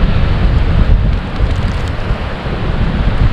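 Strong wind gusts roar steadily across a snowy state park the day after a spring snowstorm, a dense, continuous rumbling rush buffeting the microphone with no pauses.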